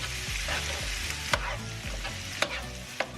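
Corned beef (pisupo) with onion and garlic frying in a pan, with a steady sizzle and occasional scraping stirs and tosses. No one speaks.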